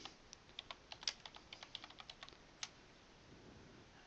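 Quick, crisp keystrokes on a computer keyboard, a steady run of about a dozen light taps close by that thins out and stops before the end, with no talking.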